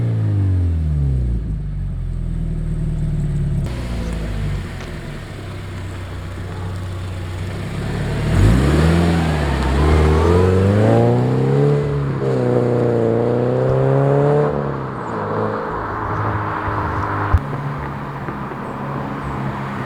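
A Subaru BRZ with a FactionFab catback exhaust revs repeatedly, its note rising and falling in swooping climbs over a steady idle, loud and close with no talking.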